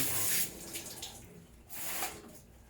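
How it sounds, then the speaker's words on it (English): Two short bursts of hissing spray of clean water onto a washcloth, close by, with a pause between them and a quiet background. "we are going to spray this with clean water"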